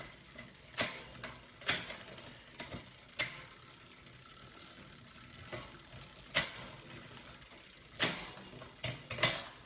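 Derailleur gears clicking on a 1979 Schwinn Traveler III bicycle, a run of sharp ratcheting clicks and metallic ticks spaced irregularly over quiet freewheel whirring, close and fairly loud.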